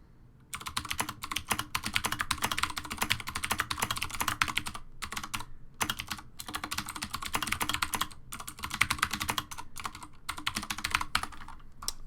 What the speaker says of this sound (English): this is how I type when I use Dvorak Layout on my mechanical keyboard